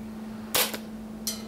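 An S&T KAR98K airsoft rifle with a real wood stock and steel cylinder, firing at 400 FPS at a steel plate: a sharp crack and a quick metallic ping just after, then a second brief clang, over a low steady hum.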